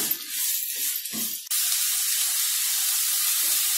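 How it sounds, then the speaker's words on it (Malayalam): Onions sauté with salt in a hot pan for a Kerala-style egg roast, giving a loud, continuous close-up hiss that swells suddenly midway and holds steady. "ഈ സവാള നല്ലോണം ഒന്ന് വഴറ്റിയെടുക്കണം."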